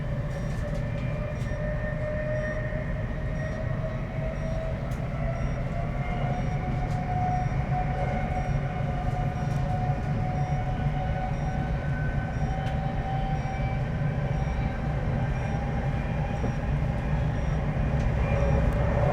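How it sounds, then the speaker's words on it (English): A German regional train pulls out of a station in Mecklenburg, a steady rumbling drive with rising motor whine and wheel noise that swells gradually as it accelerates, close and continuous with no talk. "Leaving the station, we accelerate up to 160 km per hour"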